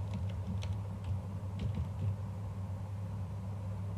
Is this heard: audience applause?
no